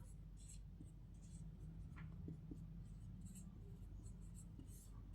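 Pen or marker scratching on a board or paper while a chemical reaction is written out, faint intermittent scribbling strokes over a steady low hum in a quiet room.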